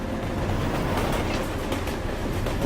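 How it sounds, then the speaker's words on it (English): A train rumbles past up close, a steady heavy roar of rolling wagons with faint rhythmic clatter that holds for the whole stretch, with no voices. "That's a train."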